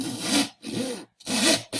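A utility cutter saws through cardboard in three rasping back-and-forth strokes separated by short pauses, close and clear with no talk.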